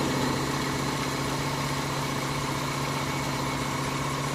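A warm boat engine idles in a steady, smooth drone with a low mechanical hum, running continuously at an even level throughout.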